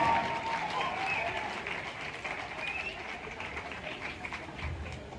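Audience of tribal youth at an address in India applauding in a steady, dense wash of clapping that stays fairly even throughout, with a faint voice buried underneath.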